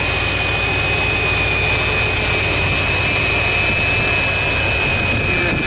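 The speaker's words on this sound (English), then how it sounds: "If you've never seen injectors fire into a throttle body," Fuel injectors firing into the throttle body of a running classic Chevy engine, heard up close as a loud, steady roar with a continuous high whine and no pauses.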